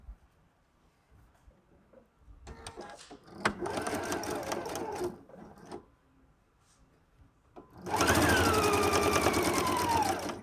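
A sewing machine stitches fabric in two bursts, a shorter run and then a longer, louder, steady whir, with quiet handling noises between them and no talk.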